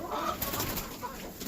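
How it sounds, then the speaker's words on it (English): A bird calls near a backyard chicken coop, soft cooing notes over faint outdoor background noise, fairly quiet and somewhat distant. "There's a bird."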